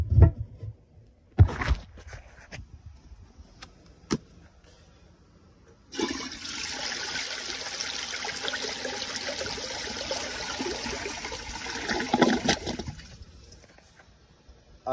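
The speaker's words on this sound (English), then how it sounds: "It honestly has a good flush." A 2002 Sanitarios Maracay toilet, its tank water line set a few inches low, flushes with a strong steady rush of water lasting several seconds after some clicks and handling knocks, then trails off.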